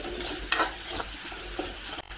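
Sliced onions sauté in a small amount of oil in a pan while a fish roast is prepared, with a soft continuous sizzle and a few spoon stirs and scrapes scattered throughout.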